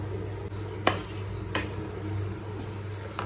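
Ash gourd with salt and turmeric is stirred in a frying pan, with a spoon scraping sharply against the pan three or four times over a low, steady sizzle.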